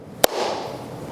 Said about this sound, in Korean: 지금 손뼉 소리가 났죠?